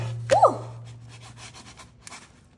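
A metal spatula scrapes and slides focaccia bread out of a greased air fryer basket, giving a short close rubbing scrape followed by a fading soft drag.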